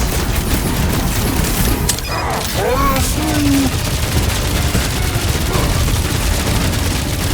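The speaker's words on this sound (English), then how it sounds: "I'll lay down some cover fire to get you across!" Gunfire and smart bombs in Marvel's Guardians of the Galaxy game: a loud, dense barrage of shots and booming blasts runs continuously, with brief whistling, sweeping effect tones in the middle.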